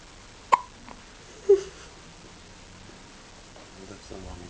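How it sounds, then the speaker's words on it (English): A newborn baby only a few hours old hiccups twice in quick succession, two tiny sharp gulps close by, followed by soft background noise and faint voices. "He's a few hours old, and he's got the hiccups."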